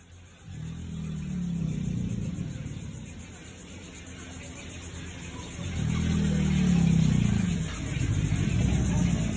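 An alligator in St. Augustine, Florida gives deep, rumbling bellows in two long, throbbing bouts separated by a lull, loud and near.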